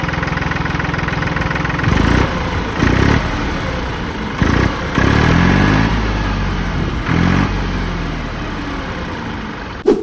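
A Massey Ferguson 9500 Smart 4WD tractor engine idles steadily up close, a continuous low rumble broken by several brief louder bursts, with no talking.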